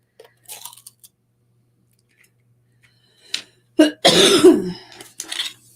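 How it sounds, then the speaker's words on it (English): A person coughs a few times in harsh, close bursts after a quiet stretch, with small rustling sounds before and between. "Excuse my cough."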